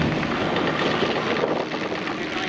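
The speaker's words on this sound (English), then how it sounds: "We've got 3 biplane SE5A." Three SE5A biplanes passing over an airshow at Shoreham, a steady distant propeller engine drone with a faint rough pulsing texture, no voices.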